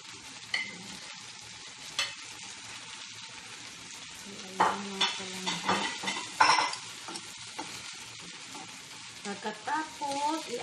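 Carrots and potatoes are stirred in a sizzling pan for chicken afritada, with a steady quiet frying hiss and intermittent scraping stirs close by.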